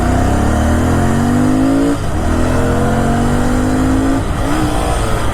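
A Royal Enfield Continental GT650 motorcycle engine revs up close, its pitch climbing in a few rising sweeps with brief drops between them, loud and steady with no talking.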